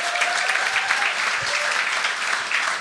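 Audience at a Mike Ward comedy show applauding a Belgian couple, steady dense clapping throughout with a faint voice at moments.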